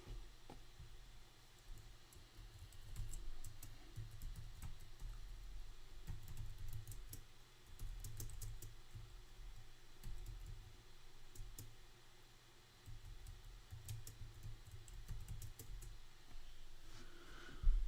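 Someone types on a computer keyboard during a live trading stream, with scattered clusters of quiet close key clicks over a low background hum and no speech.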